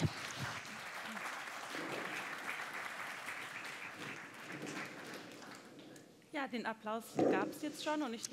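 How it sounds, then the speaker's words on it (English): Applause from an audience at an evening event, a sustained wash of clapping that carries on for several seconds before it thins out and a voice begins speaking close by. "So, we've already had the applause"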